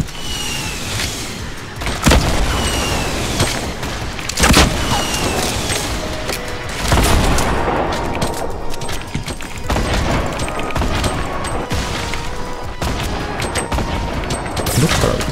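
Repeated bursts of gunfire in the video game Fortnite, loud and close, with sharp shots recurring every couple of seconds over a dense background of game noise.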